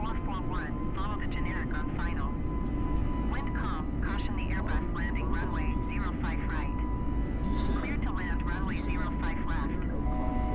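Steady, loud aircraft engine drone during climb in Microsoft Flight Simulator 2020 on a Mexico City to Guatemala City flight, continuous throughout with someone talking over it.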